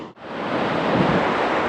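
Ocean surf rolling onto a beach during surfcasting, a steady broadband wash of breaking waves that builds after a brief dip at the start and stays loud and continuous, with no voices.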